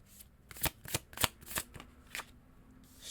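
A deck of tarot cards shuffled by hand, a quick run of crisp riffling snaps and slaps, close and fairly quiet, with no voices over it.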